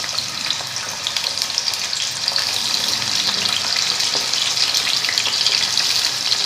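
Long-cut ivy gourd (dondakaya) slices fry in hot oil, a loud, dense, continuous sizzle with fine crackles throughout, heard alone without speech.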